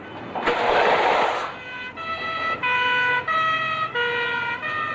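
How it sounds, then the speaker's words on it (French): A whooshing burst of traffic noise gives way to an ambulance siren in a 1985 French TV drama, wailing in a repeating two-tone pattern, fairly loud and close. "Une ambulance."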